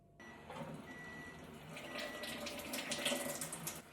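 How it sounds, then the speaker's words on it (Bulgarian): Acidic water pours from a Kangen water ionizer into a container, a steady close trickle that starts abruptly and grows slightly fuller and splashier, with no talking. "И сега ще си наточа от една страна киселинна вода, с която ще дезинфекцирам рибата"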